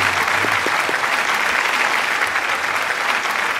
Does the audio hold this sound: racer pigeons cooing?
no